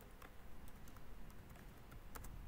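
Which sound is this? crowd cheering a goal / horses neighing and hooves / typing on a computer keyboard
typing on a computer keyboard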